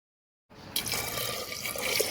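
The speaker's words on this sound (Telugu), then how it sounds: "ఇవన్నీ మునిగే వరకు వాటర్ పోస్తున్నాను." Water pours into a pressure cooker over soaked ingredients for chicken haleem: silence, then a sudden steady close splashing gush that continues to the end.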